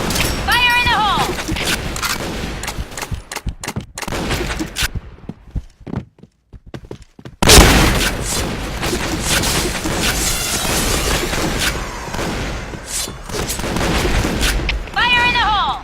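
Grenade explosions and shotgun fire in the shooter game Point Blank on the Burning Hall map, a dense barrage of loud booms and shots with a brief quieter gap midway and voices calling out over the action.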